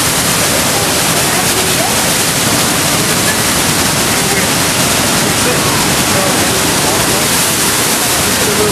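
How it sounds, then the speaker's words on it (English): Thunderous, constant roar of Niagara Falls heard from underneath, very close by, a dense wall of rushing water noise without pause. "we're under the Niagara Falls, and it's very wet"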